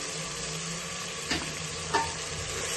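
Chilli, ginger and garlic paste fries in hot oil in a pan, a loud continuous sizzle with two brief stirring scrapes, close and steady throughout.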